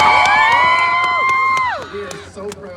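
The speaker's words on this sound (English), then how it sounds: "Give yourselves a round of applause." Crowd cheering and whooping loudly at a holiday train charity event in Thunder Bay, sustained shouts that fade near the end with some clapping.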